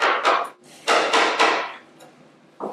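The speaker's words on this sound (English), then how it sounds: "So I'll just chisel it down." Hand chiseling wood for a document chest, a handful of sharp mallet-driven strikes on a chisel, close and crisp, spaced irregularly over a few seconds with quiet gaps between.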